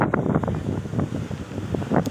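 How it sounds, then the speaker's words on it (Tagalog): Strong sea wind buffets the microphone in a steady, rough roar, with surf rumbling underneath; no one speaks. "kaya napakalakas ng hangin"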